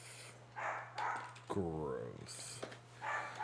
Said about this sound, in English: that dog, man.